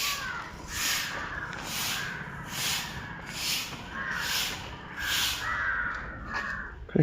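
Several crows caw in repeated bursts spread across the whole stretch, moderately near and loud against a steady outdoor background hiss, with no talking.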